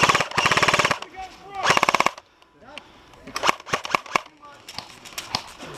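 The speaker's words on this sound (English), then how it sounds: "My gun's shooting way too far up." Airsoft guns fire at an outdoor field in Chesapeake, Virginia: two long rapid full-auto bursts nearby, then scattered single pops and shorter volleys, with people talking between shots.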